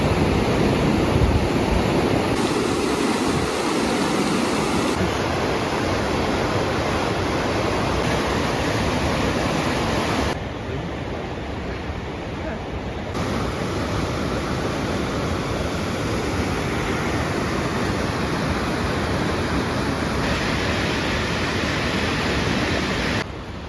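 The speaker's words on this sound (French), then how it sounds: "une cascade si on remonte le truc" Waterfall in a mountain valley in Japan, a loud, steady broadband rush of falling water that fills the scene continuously from start to finish, with no voices.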